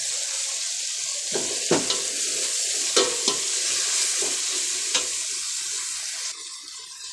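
Green chillies and chilli powder fry in hot oil as biryani masala is prepared, giving a constant close sizzle. Several sharp stirring clacks and scrapes of a spoon against the pan cut through it.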